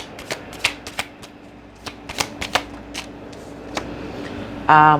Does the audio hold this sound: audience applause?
no